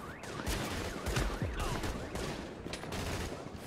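Rapid gunfire from the video game Tom Clancy's The Division, a steady run of sharp shots and bursts at moderate loudness for nearly four seconds.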